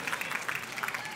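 A basketball crowd at a Bishop Timon Tigers versus Canisius Crusaders game applauds first responders, producing a dense, steady wash of clapping that fills the gym without a break.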